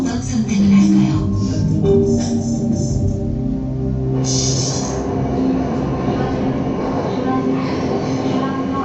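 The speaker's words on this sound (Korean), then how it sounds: "화재가 난 대구 지하철 대차 안." Rumbling interior of a Daegu subway car in motion, a steady roar of wheels and rails with shifting tonal whines and squeals, loud and continuous throughout.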